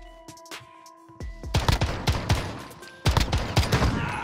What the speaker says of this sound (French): les petits bruits de flingue, là.